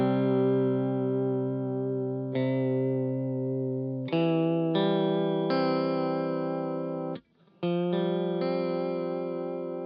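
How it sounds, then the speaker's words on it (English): Electric guitar played through a JHS Emperor chorus/vibrato pedal, a series of sustained strummed chords changing every second or two with shimmering modulation, one brief cutout before the final chords, loud and close with no talking. "was this Emperor pedal from JHS"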